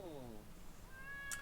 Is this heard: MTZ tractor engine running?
no